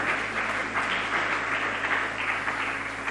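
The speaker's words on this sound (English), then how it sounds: "Please give me another round of applause." A steady round of applause from an audience at a Ghanaian government event on rebuilding the economy, dense continuous clapping at an even level with no pauses.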